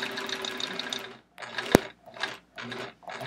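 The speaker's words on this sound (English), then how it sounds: "as we're sewing." A sewing machine stitching a quilt, running in short bursts with a whirring mechanical rattle of gears and needle, broken by brief pauses and one sharp click partway through.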